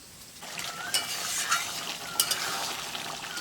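Meat being stirred with spices and green chilies in a pan at a village home kitchen, giving a steady sizzle with scraping strokes and a few louder clinks, close and continuous throughout.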